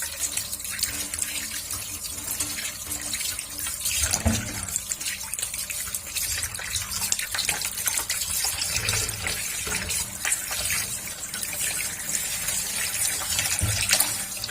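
Water runs steadily from a tap for a long stretch, with splashing and handling noises as raw chicken is rinsed under the stream.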